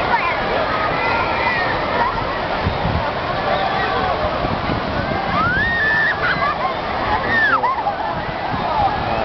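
Strong waves splash and rush steadily on a crowded beach, a continuous noisy wash mixed with many voices talking and calling nearby.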